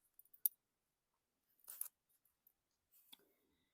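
Scissors snip close by in a quiet room during paper crafting for a junk journal. There are a few short, light cuts and clicks spread out over a few seconds, with no talking.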